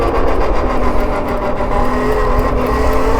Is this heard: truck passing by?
yes